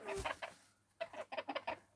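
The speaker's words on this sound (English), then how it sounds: "There's a chicken sitting on my lap." A chicken clucks close by while sitting on someone's lap, giving a few short bursts of clucking spaced across two seconds, quiet and alone with no talk.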